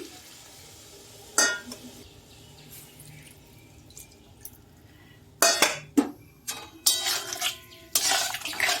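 Water splashed from a rinsed mustard-paste bowl into a pan of small-fish curry with potatoes, then stirred: sharp clanks of utensil on pan, dripping and sizzling bursts, loud and close, with no talking.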